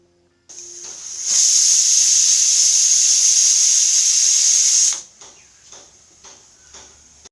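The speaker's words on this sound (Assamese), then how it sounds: "এটা চিটি বাজিবলৈ মই দিম।" A pressure cooker holding rice pulao releases steam in one loud, sustained hissing whistle of about four seconds, followed by soft clicks and kitchen clatter nearby.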